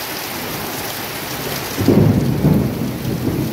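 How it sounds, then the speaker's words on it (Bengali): Heavy, steady rain pours down with light gusting wind, and a deep rumble of thunder rolls in partway through and continues, loud and close, with no voices. "মুষলধারে বৃষ্টি চলেছে। বৃষ্টির গতি আস্তে আস্তে প্রবল থেকে প্রবলতর হচ্ছে, আর তার সাথে মুহুর্মুহু বজ্রপাত তো লেগেই আছে।"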